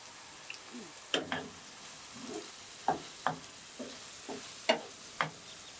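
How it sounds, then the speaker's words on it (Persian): Soft, steady sizzling of onions frying in a pan with repeated scraping and tapping strokes of a utensil stirring them, close and fairly quiet. "میریزیم تو مایتابه و با پیازا تفت میدیم تا وقتی که رنگشون عوض بشه"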